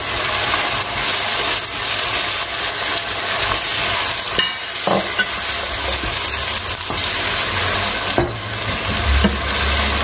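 Tomato goes into a frying pan of sizzling sausage for tagliatelle alla salsiccia, giving a loud, continuous sizzle and fry with stirring scrapes and a few sharp clatters, with no talking.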